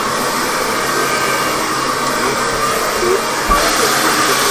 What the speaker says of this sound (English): Hairdryer the radiator.